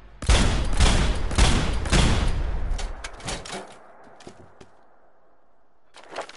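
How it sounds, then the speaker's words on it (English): Gunfire in the video game Fallout 4: a rapid burst of loud, sharp shots for about three seconds, then scattered quieter clicks and tails, and one more shot near the end, with no talking. "Just shooting a gun"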